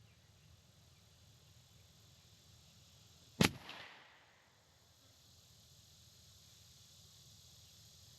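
A rifle chambered in .45 Colt fires a single 225-grain Hornady FTX round at an outdoor range. One sharp, loud crack rings out with a short echo tail against quiet background ambience.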